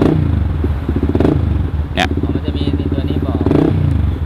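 A motorcycle engine with a newly replaced battery cranks and turns over after the start button is pressed, a rapid rhythmic chugging close to the microphone with a brief click partway through, as someone talks.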